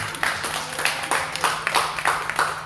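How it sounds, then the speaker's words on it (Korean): A church congregation claps together in a steady rhythmic beat of roughly three claps per second during a Sunday service, with a faint low hum underneath. "우리 한 박수 한번 쳐요"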